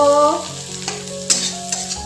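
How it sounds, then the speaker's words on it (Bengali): Potatoes fry with onion in a hot pan at home, a close crackling sizzle with brief stirring scrapes, while a sustained electronic tone sounds faintly in the background. "তো এখানে আমি আলু ভাজতে দিয়েছি"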